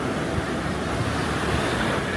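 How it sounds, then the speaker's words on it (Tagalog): Ocean waves break on the sand at Miramar Beach, a continuous broad wash of surf with some wind noise and no voices. "Look at the waves."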